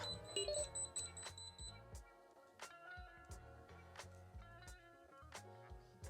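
A soldering station gives short electronic beeps repeating at a steady rhythm under low hum and faint clicks, quiet and close by.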